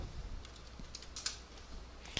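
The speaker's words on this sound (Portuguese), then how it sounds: "você vai lá no browser e vai digitar localhost /info" Quiet typing on a computer keyboard, a handful of soft, irregular key clicks with one sharper tap near the end, over low background hiss.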